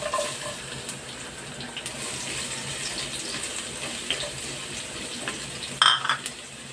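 Garlic added to about two spoonfuls of hot cooking oil sizzles with a continuous, fairly soft hiss, broken by a few faint clicks and a brief louder burst near the end.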